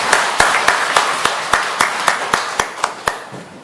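Rhythmic clapping from a church congregation during a Korean worship service, about a dozen loud, evenly spaced claps over a steady wash of scattered hand claps, with no voices.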